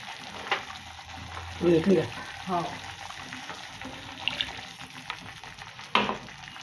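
Water goes into a hot pan holding fried gram-flour vadis during cooking of a vegetable curry, a faint bubbling sizzle with soft stirring knocks and a few sharper clinks over quiet room tone, with a brief muffled voice.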